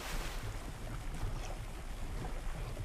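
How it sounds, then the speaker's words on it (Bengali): A boat speeds across open water in the video game Blox Fruits, giving a steady rushing wash of waves and wind noise throughout with no pauses. "আমরা তিনজন বোট ড্রাইভ করতেছে"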